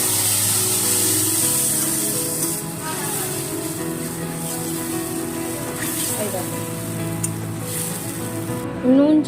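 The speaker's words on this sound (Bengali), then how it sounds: "এবার যে সর্ষেটা বেটে রেখেছিলাম, সর্ষে পোস্ত কাঁচা লঙ্কা একটু নুন দিয়ে সেটা দিয়ে দিচ্ছি।" Mustard, poppy seed and green chilli paste with salt hits hot oil left from frying pabda fish, giving a loud, continuous sizzle and bubbling hiss throughout, with a sharper spatter near the end.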